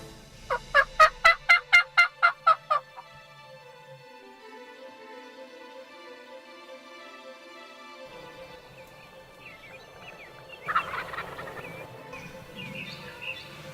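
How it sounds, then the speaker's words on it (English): A wild turkey tom gobbles in a rapid rattling burst at the start, then again farther off at the end of a field later, over faint background birdsong. "We can still hear the gobbler at the end of the field"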